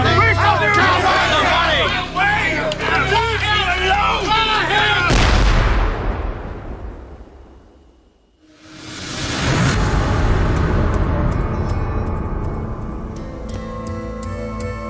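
Gunfire in an American Revolution re-enactment: a crowd shouts and jostles, then a loud, close gunshot blast rings out and fades, followed by more shots and agitated voices.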